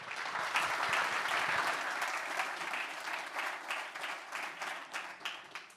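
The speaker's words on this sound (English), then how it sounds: "Please give our panelists a warm round of applause" Sustained applause from an audience at a conference summit greets the panelists, dense clapping at first that gradually thins into scattered claps as it fades.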